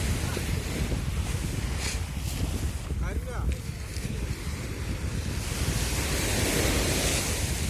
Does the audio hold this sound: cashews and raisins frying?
no